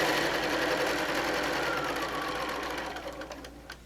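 A sewing machine runs a short back tack while making a machine cover, a close, fast steady whirring stitch that slows and stutters to a stop near the end.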